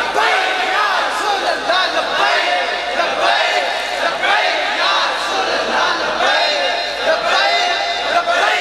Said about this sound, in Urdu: ہن مارو جے نعرہ.